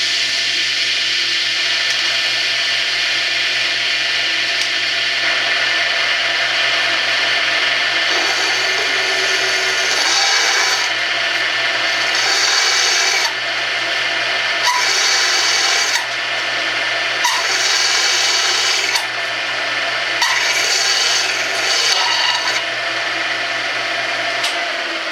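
An aluminum bracket being cut by a power tool with WD-40 applied, a loud continuous high whine that dips and surges in repeated bursts as the blade bites, no talking.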